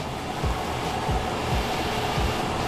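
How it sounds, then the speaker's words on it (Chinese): A hair dryer blows continuously at close range while the front of a man's hair is styled for volume, a steady airy roar with faint rhythmic low thumps. "然后像这样稍微吹一下，把前面的蓬度稍微吹出来。"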